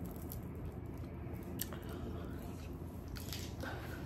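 Close, wet chewing and biting on chicken tenders, with soft squishy crunches repeating irregularly against low background noise.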